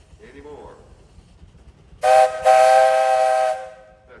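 Steam tractor whistle sounding at a tractor parade: a short loud toot, then a longer sustained blast of about a second, shrill and chord-like, over light crowd background after a brief voice.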